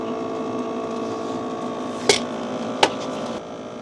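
Mihol K3 Pro portable camping air conditioner running inside a tent, a steady even electrical hum and drone throughout, broken by two brief sharp clicks or knocks near the end.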